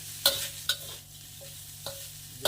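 Chickpeas and grated coconut sautéing in a pan, with a steady soft sizzle beneath a few sharp scraping stirs spaced across the moment, close and moderately quiet.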